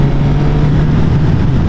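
A Suzuki GSX-S1000F motorcycle engine drones loudly with a gruff low rumble, opened up in fourth gear and holding at high revs throughout.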